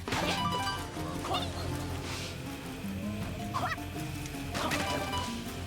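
A honking duck alert sound plays on a livestream, several squawky quacks and honks mixed over a busy game soundtrack and background noise at moderate loudness.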